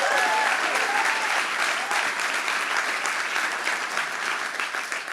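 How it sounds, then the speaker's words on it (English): An audience at an innovation demo day pitch event breaks into steady, even applause, dense clapping that holds for several seconds and slowly tapers off. "Should we not give them a round of applause?"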